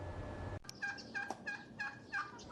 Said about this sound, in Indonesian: Ayam cemani bekisar kini menjadi salah satu hewan peliharaan primadona bagi warga Kota Palembang.